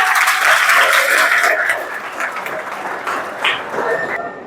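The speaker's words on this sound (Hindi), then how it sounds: "तो एक बार सबके लिए जोरदार तालियां।" Loud applause from a school welcome-ceremony crowd, dense and sustained throughout, thinning slightly toward the end.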